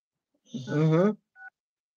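A brief two-tone telephone keypad beep sounds once, alone and clear, just after a short voiced sound, as a phone number is dialed.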